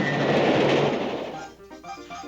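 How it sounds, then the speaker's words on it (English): A cartoon train rumbles in as a loud, broad roaring wash that fades toward the end, where a few faint clattering and tonal bits remain. "I think there is a train approaching."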